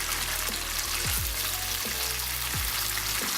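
Steady, close sizzling and crackling of tofu frying in hot oil over medium heat, filling the whole stretch with a constant hiss.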